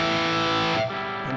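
Distorted electric guitar through a Chuck tube amp on its hard rock voicing, a brief loud sustained chord that rings then dips as a new note is struck, heard alone without talk.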